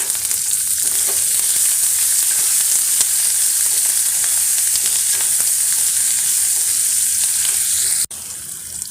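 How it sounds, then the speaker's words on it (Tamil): Loud, steady sizzling of chopped green chilies frying in hot oil, continuous throughout with faint stirring scrapes, dropping off abruptly near the end. "அடுத்து நான் ஒரு மூணு பச்சை மிளகாயை பொடியாக நறுக்கி வச்சுருக்கேன் அதை ஆட் பண்ணிக்கலாம்"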